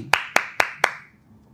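Four sharp, evenly spaced hand claps from an audience, crisp and close, each ringing briefly before fading into quiet.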